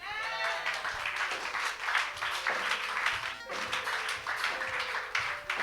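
A church congregation applauds God during a sermon, a fairly soft, steady round of clapping from many hands with a few voices mixed in, continuing without a break.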